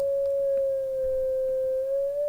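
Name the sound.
FL Studio 3xOsc synthesizer tone with pitch fine-tuning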